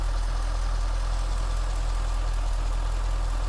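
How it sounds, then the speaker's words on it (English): A 2004 Chevrolet Corvette engine, stock with stock exhaust manifolds, idles smoothly and steadily, a low even rumble with no changes in pitch or rhythm. "Idle's incredibly smooth."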